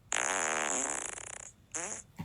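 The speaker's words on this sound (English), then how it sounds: "Go fart in the bathroom" A loud, drawn-out flatulent blast lasting over a second, followed by a short second fart a moment later, close up and indoors with no talking.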